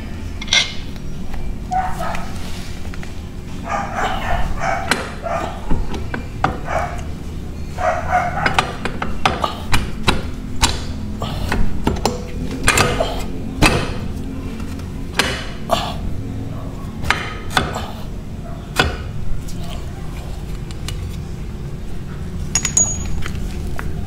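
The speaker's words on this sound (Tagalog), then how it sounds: "kailangan na talaga natin tanggalin yung nut" Metallic tool work freeing a nut from the rear shock of a Yamaha NMAX V2 motorcycle: repeated sharp clinks, taps and ratcheting clicks at an uneven pace, close by, with a dog barking and a rooster crowing in the background.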